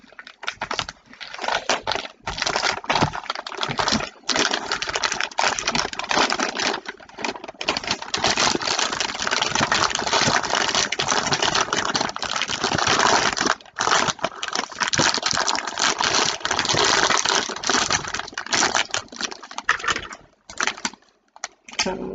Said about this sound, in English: Probably can't hear me over the damn crinkling.